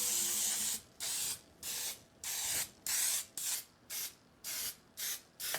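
An aerosol can of grease sprays onto a Pyrex pan being prepared for South African malva pudding, giving about ten short, evenly spaced hissing bursts close to the microphone with brief silences between them.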